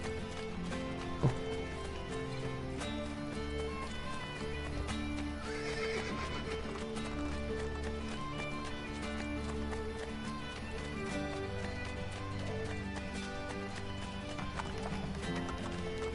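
Several horses gallop and neigh in the video game Assassin's Creed Brotherhood. A continuous drumming of hooves is layered with repeated whinnies over game music, with one sharp tap near the start.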